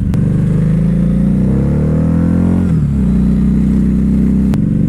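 A Harley-Davidson V-Rod motorcycle engine revs loud and close, climbing in pitch for a couple of seconds before dropping back to a deep, throbbing idle, with no talk over it.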